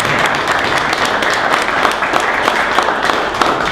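An audience at an evening history lecture applauds, a dense, even wash of many hands clapping that holds steady and fairly loud throughout.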